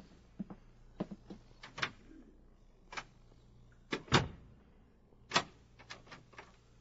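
A door closing and locking in a science-fiction radio drama set in a hospital, a series of sharp knocks, clacks and latch clicks spread irregularly, close and fairly quiet, with no voices.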